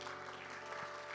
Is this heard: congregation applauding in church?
yes